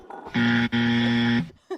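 Electronic game-show style buzzer at a live whiskey tasting, one loud, harsh buzz of about a second with a brief break near the start, with faint room sound around it.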